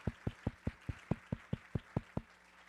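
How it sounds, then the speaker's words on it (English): Audience at a recorded event clapping in a slow, evenly spaced rhythm, about a dozen distinct loud claps in sequence, near and unaccompanied by talk. "One big round of applause for everybody who's making this happen today."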